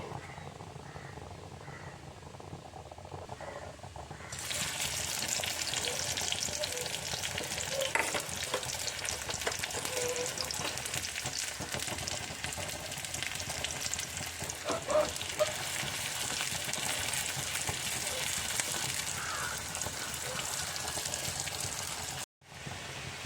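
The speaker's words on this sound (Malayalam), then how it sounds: "നന്നായി ഇളക്കി യോജിപ്പിക്കുക" Bitter gourd curry with onions fries and is stirred in a pan: after a few quiet seconds a loud, steady crackling sizzle starts and continues with scattered stirring clicks, briefly cutting out near the end.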